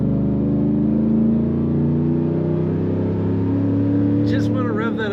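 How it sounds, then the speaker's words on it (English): A 2023 Ford F-150 XLT Supercrew 4x4 idles with a loud, steady engine drone, its harmonics shifting slightly as the revs change. Near the end a voice speaks over it. "Just want to rev that up to listen to it."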